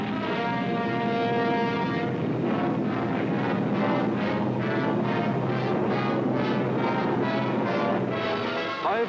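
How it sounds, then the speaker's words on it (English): A loud, continuous droning roar of heavy propeller engines from WWII German bombers and Messerschmitt fighters, with a pulsing, throbbing rhythm, sustained throughout. "German bombers and Messerschmitt fighters roared over the English coast."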